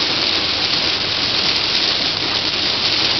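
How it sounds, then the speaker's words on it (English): Heavy rain drums steadily on a car driving in a Florida storm at highway speed, a dense, constant wash of noise that stays loud and unbroken throughout. "Raining very hard."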